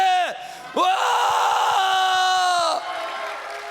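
Church congregation at a Thanksgiving Sunday service letting out two short shouts, then a long, loud, sustained cry of voices over rhythmic clapping, which fades into lighter murmuring at the end.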